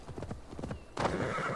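A horse in Assassin's Creed Valhalla clip-clops along at a steady trot, hooves thudding in an even rhythm before a louder wash of ambient game sound takes over.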